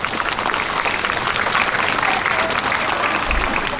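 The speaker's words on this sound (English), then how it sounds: "Give yourself a round of applause." A school assembly audience applauds at a Cesar Chavez event, sustained and even crowd clapping throughout, loud and dense with a faint murmur of voices.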